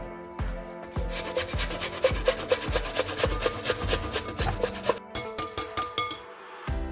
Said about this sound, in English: The first step is to grate my carrots, and I will be using this side of the grater.